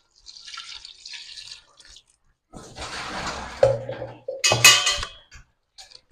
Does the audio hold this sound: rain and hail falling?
no